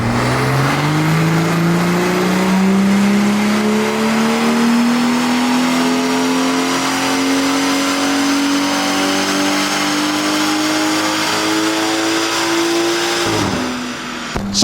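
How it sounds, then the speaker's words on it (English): BMW M140i with a B58 engine tuned to stage 2 plus with an upgraded high-pressure fuel pump, revving on a dyno: one long, loud, steady climb in engine pitch over about thirteen seconds before it drops off abruptly. "we'll start our baseline tuning for stage 2 plus, equate for that high pressure fuel pump and see what we can achieve today"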